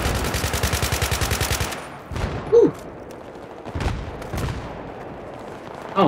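Battlefield 3 gameplay gunfire: a rapid, loud automatic burst of evenly spaced shots, then a few separate single shots and thuds with quieter gaps between.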